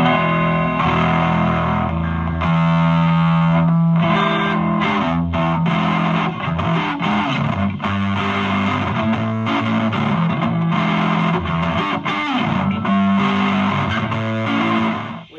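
A fuzzy, loud electric guitar pushed through a British, Marshall-style amp emulation with everything turned to full plays distorted chords and bent notes continuously, close and alone until it cuts off at the end.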